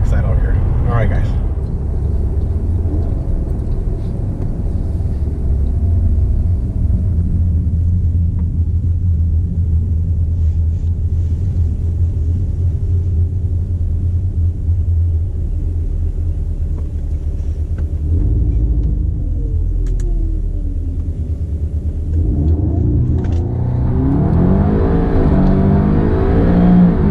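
An APR Stage 3+ tuned Audi S3 makes a loud, steady engine rumble from inside the cabin, then its engine note climbs sharply near the end as it accelerates, with a voice talking over it.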